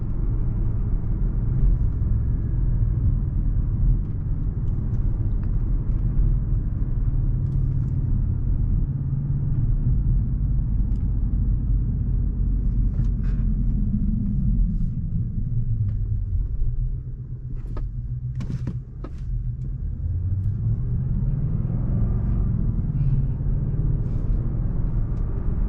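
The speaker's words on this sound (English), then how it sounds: "Engine slowly warming up." An Audi car in dynamic sport mode drives through a residential neighborhood while its engine slowly warms up, giving a steady, close, low rumble that dips briefly partway through, with no voices.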